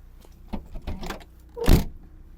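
The tailgate of an Opel Zafira 1.7 CDTI swings down and shuts with one solid thud after a few softer clicks and rustles of handling.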